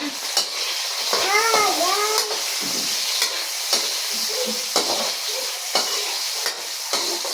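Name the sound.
tomatoes added to sizzling pan while sautéing vegetables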